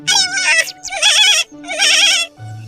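Cartoon goat bleating in an animated story about two goats: three loud, wavering, close bleats in quick succession, with a short low sound at the end.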